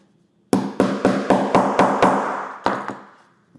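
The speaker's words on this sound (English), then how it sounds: "I'm gonna grab my tool again and I'm gonna hammer everything down" Sharp metallic hammer strikes set snap fasteners onto a moto jacket: about eight crisp, loud, close blows in a steady rhythm, the last two after a short pause.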